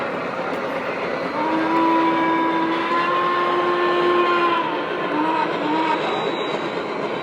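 A Lionel Western Maryland 1309 model locomotive pulling passenger cars runs steadily around a home layout during an open house, giving a continuous close rumble with sustained whistle-like tones.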